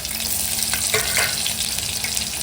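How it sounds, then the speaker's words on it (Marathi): Onion and garlic dropped into hot oil for a fish curry base, giving a loud, steady crackling sizzle throughout with no talk. "कांदा आणि लसूण टाकायचं आहे गरम तेलात"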